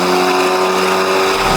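Car engine fitted with an L380 turbocharger revving hard on a dyno, a loud sustained high-rpm roar with a steady tone, close and continuous throughout.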